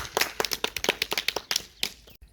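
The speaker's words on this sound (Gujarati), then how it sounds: "તાળીઓ બજાવો કેતનભાઈ." A small group claps for the winner of a Gujarati walk-like-a-horse challenge, a brisk run of close, sharp hand claps over about two seconds before stopping.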